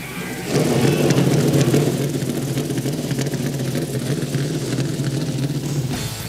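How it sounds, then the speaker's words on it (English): Sports car engines at the 2002 American Le Mans Series race at Laguna Seca fire up together and settle into a loud, steady collective rumble that holds until the end. "Drivers, start your engines!"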